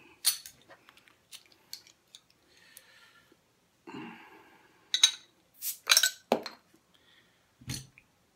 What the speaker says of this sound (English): I'm gonna give this a crack. We're gonna open it up.